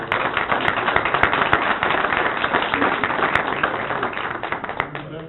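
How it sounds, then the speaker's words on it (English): A council meeting crowd gives a round of applause, a dense, steady clatter of many hands that holds for several seconds before easing off, with faint voices underneath. "let's all give a round of applause"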